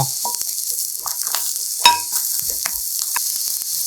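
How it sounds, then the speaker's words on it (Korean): King oyster mushrooms and shishito peppers fry in an oiled pan with a steady close hiss, broken by occasional pops, crackles and a sharp utensil knock. "새송이 버섯과 꽈리고추를 노릇하게 구워주세요"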